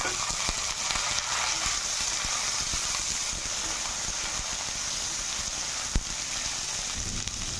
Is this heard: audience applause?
no